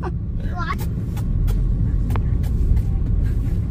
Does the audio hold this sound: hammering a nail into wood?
no